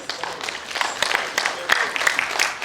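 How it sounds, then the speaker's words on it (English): Applause for an engineer at an induction ceremony, irregular clapping from a gathered audience that swells and dips, with some voices mixed into the claps. "Please a round of applause for him."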